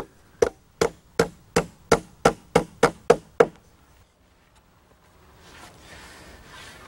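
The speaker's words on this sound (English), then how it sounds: "To secure the decking, I'm using 8-penny stainless steel ring shank nails." Hammer blows drive 8-penny stainless steel ring shank nails into gazebo wood decking: nine sharp, evenly spaced strikes, loud and close, then a quiet pause and faint rustling noise.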